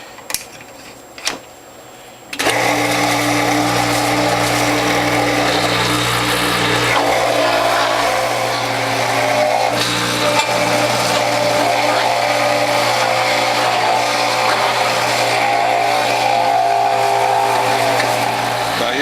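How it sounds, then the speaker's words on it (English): A Whole Heal juicer shreds carrots with a loud, steady motor whir and grinding buzz after a brief quiet start with a couple of clicks, holding a constant roar to the end. "Carrots are a lot easier to shred than greens"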